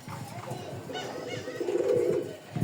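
Rajgolla pigeons cooing in a soft, steady murmur, with a fuller coo swelling near the end, mixed with low background chatter of people nearby.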